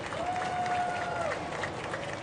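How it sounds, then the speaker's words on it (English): A crowd at a racquetball doubles final applauds and cheers the match-winning shot, a steady wash of clapping heard from the stands with an announcer speaking over it. "The crowd loves it."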